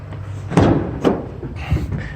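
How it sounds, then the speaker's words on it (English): Heavy cargo doors of a 2016 Ford Transit T-250 high-roof van are handled nearby: two solid clunks of latches and hinges, then a softer rattling thud as a door swings open. "Open the doors here and stuff."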